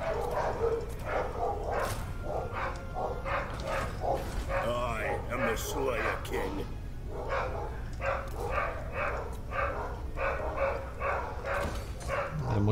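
Dogs bark in quick repeated bursts throughout, close and fairly clear, under a steady low background hum.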